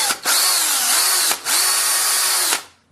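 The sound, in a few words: 18-volt drill drilling into an iPhone 6 screen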